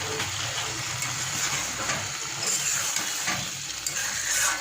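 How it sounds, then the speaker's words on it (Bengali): Hilsa fish and vegetables sauté in a pan, a close, steady sizzle with stirring scrapes and bubbling moisture running continuously, no voices. "তো এই তো মাছটা এই যে আমার কষানো হচ্ছে, মাছের সাথে সবজিগুলো অ্যাড করে দিয়েছি।"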